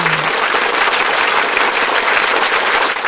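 An awards show audience gives steady, even applause with no cheering, a short unbroken wash of clapping and no talk over it.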